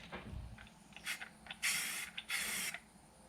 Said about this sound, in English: You spray the tip, or line the tip up, excuse me, and then just press the trigger.